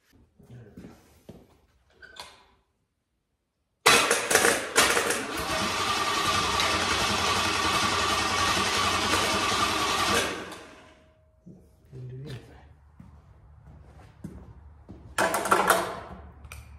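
A Small Block Chevy engine is turned over: after a few quiet clicks comes a loud, even mechanical whir for about six seconds, then it winds down, with another short burst near the end.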